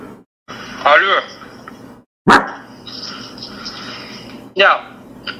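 A man on a phone call imitates a barking dog, three short bursts of voiced woofs and yelps separated by pauses, loud and close.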